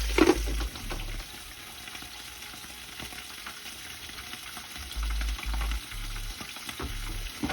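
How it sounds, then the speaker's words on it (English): Mussels sauté in a hot pan for a mussels marinara, giving a steady close sizzle and crackle with occasional low clunks of shells shifting, with no talking. "Just going to saute these for a few minutes, then we're going to add our garlic and our herbs"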